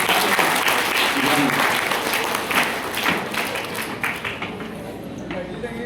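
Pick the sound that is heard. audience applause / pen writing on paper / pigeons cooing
audience applause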